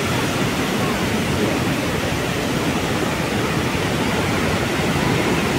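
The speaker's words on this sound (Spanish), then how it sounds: "lo que es esa caída de agua" The Iguazu Falls waterfall in Brazil gives a dense, continuous roar that stays steady and loud throughout, with no voices over it.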